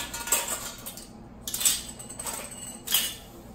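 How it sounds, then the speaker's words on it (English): Metal canning lids clink onto glass jars of honey pickled beets one after another, three or four light metallic taps close by in a quiet room. "Just take my lids, plop them on like so."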